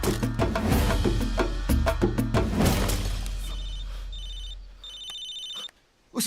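A telephone rings in repeated electronic trills with short gaps, beginning over loud music that fades out before a final burst of sound.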